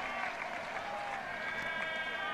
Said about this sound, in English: Great roar from the crowd, greeting that boundary from John Edridge